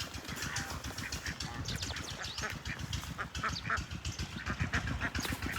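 Several ducks quack continuously and busily at close range, overlapping calls with some splashing and fluttering around them.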